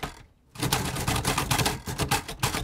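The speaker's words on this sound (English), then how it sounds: "It just sounds like a lot of very loud, kind almost typewriter sounds." Braille writers clatter loudly at a Braille Challenge competition, a dense, rapid, overlapping typewriter-like rattle of many keys striking at once, starting abruptly after a brief quiet and continuing steadily.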